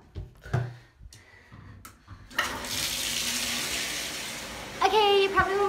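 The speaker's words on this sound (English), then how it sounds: "This is me running my bath." A bath fills from the tap indoors as a steady, loud gush of running water starts after a few knocks and thumps, with a squeaky tap turning near the end.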